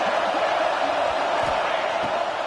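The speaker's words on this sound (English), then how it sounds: "Decibels rising as the crowd gets behind this defense on third down." A stadium crowd at a college football game between Ohio State and Georgia roars steadily for the defense on third down, a dense continuous cheer with faint speech beneath it.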